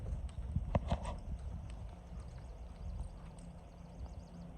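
Hooves clip-clop on hard ground in a few quick, uneven steps, fairly close, with low rumbling background noise and no talking.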